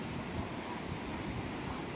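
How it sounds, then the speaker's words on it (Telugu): Kutralam waterfall pouring down from above at the end of a trekking trail, heard as a steady, dense broadband rush of falling water with no breaks, loud and close throughout. "ఆ పైనుంచి వాటర్ ఫాల్స్ వస్తాయి."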